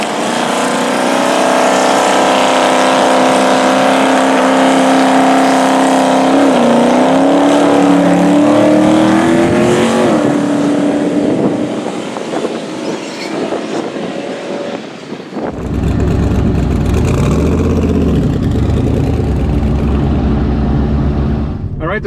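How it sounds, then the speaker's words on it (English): A Mustang drag car tears down the strip with a long, loud engine roar that rises and shifts, then gives way to a rumbling coast-down as the parachute slows it, with a voice talking over the run. "We're not going to see a time on this Mustang's run."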